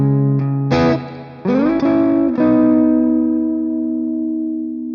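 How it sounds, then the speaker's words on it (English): Electric guitar through an Amplitube 5 Orange amp simulation with the reverb pushed all the way until it distorts: loud, gritty sustained chords and slides, thick and saturated, ringing out into a long fading tail, no voices. "if you push that reverb, it distorts."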